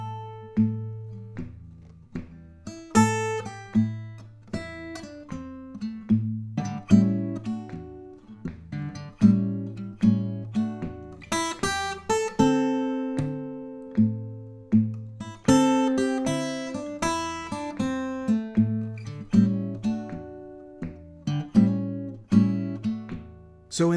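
Guitar strums and picks a bluesy chord progression at an easy, steady rhythm, with ringing chords and bass notes alone for about twenty seconds.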